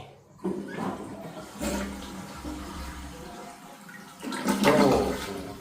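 A siphon jet dual-flush toilet flushes after its button is pressed and released, with a rushing surge of water that gurgles and swirls, swells louder toward the end, and drains close by with no talk.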